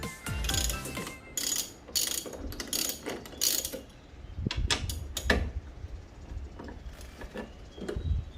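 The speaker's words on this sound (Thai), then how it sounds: "เรามาถอดน็อตที่ยึดตัวนี่นะฮะตัวนี้ออก นี่น่าจะประแจเบอร์สิบ" A 10 mm ratchet wrench loosens bolts on a Honda PCX rear shock, making repeated close, loud bursts of rapid clicking with brief pauses between strokes.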